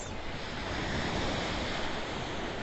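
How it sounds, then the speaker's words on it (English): Ocean surf on Maui rolls in a steady, continuous wash of broadband noise, loud and close with no distinct breaks between waves, carrying a slight windy roughness and no voices. "the calming sound of the ocean's ebb and flow"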